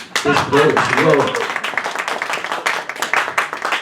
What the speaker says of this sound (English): Personally, I thought that last poem deserved more applause